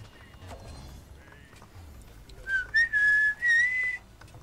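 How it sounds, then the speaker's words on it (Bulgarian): A person whistles a rising, warbling tune in several loud bursts over low background noise in a game session, with faint sounds of horse hooves and a whinny earlier. "Стига свиркай, бе."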